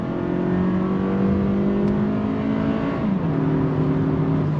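A 2023 Toyota Camry Nightshade Edition's 2.5-liter four-cylinder engine pulls hard under throttle, a loud, droning rise in pitch heard from inside the car, dropping briefly at a gear change before climbing again.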